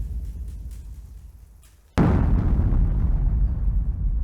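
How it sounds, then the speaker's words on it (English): A low rumble gives way to a sudden loud boom, followed by a sustained roaring, crackling rumble that stays loud to the end. "Suddenly, there was an ear-ringing boom, a ground-shaking crash, and an explosion of dust and dirt"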